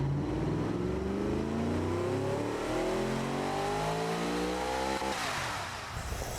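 Fully built Toyota 1UZ V8 engine in the BeamNG driving simulator revving up steadily, its pitch climbing for about five seconds before dropping off, loud and close with no talking.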